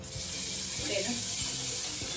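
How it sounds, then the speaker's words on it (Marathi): Water poured from a vessel into a pan of spiced curry in a home kitchen, a steady close splashing stream lasting the whole moment with no talk. "मसाले टाकल्यानंतर याच्यामध्ये टाकायला पाहिजे पाणी"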